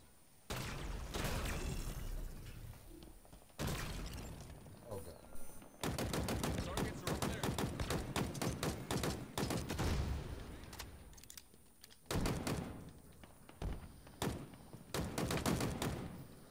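Rapid gunfire in Halo Infinite multiplayer, loud bursts of automatic shots in several volleys with brief pauses between them, continuing steadily through the whole stretch.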